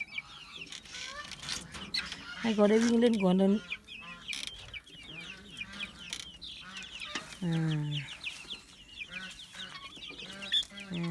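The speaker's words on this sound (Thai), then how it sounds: "เดี๋ยวก่อนที่จะปลูกเรามาปล่อยลูกไก่กันก่อน ลูกไก่เด็กๆนะครับ" High, busy peeping of young chicks being let out to forage runs throughout, mixed with a few louder clucks, while someone speaks intermittently over them.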